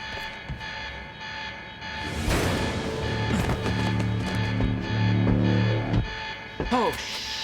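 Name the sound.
alarm going off in Quantum Break video game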